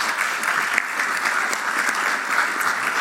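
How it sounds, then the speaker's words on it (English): Audience applause for candidates at a Victorian state election forum in the Shepparton district, steady, dense clapping from a roomful of people held at an even level throughout, with no voices over it. "I'd like to thank our candidates, and if you'd like to give them a round of applause"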